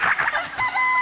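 A chicken clucks and crows briefly in a close, fairly loud burst with no talk over it, rising to a sustained high note at the end.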